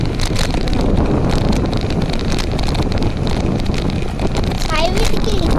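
Cold village wind gusts on an outdoor morning walk, buffeting the microphone in a constant, loud roar, with voices talking underneath.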